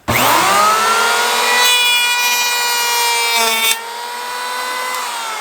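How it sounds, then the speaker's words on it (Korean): An electric hand planer shaves across a wooden surface, a loud, close whining buzz with a rough cutting edge that eases off slightly near the end as the blade runs on. "전동대패 작동하는 모습을 간단히 보여드렸는데요"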